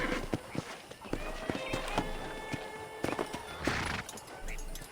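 Horse hooves clip-clop at a walk in the Red Dead Redemption video game, with a whinny, close and fairly loud, mixed with footsteps, while voices talk over it.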